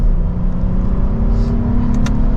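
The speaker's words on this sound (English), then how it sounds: "Nice exhaust note to it, not overly loud for a luxury focused vehicle like this" A 2024 Lexus IS 350 F Sport engine pulls steadily under acceleration, a smooth, moderately loud exhaust drone heard from inside the cabin.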